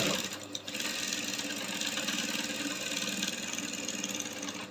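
A sewing machine stitches a long pencil skirt in one continuous run, its rapid mechanical chatter and motor whir holding steady and close throughout.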